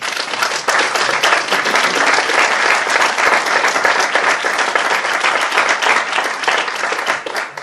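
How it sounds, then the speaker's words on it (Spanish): An audience at the Casa de la Cultura de Agós gives loud, sustained applause. Many hands clap in a dense, even roar that carries on for several seconds without letup. "Quiero un aplauso para todos los presentes"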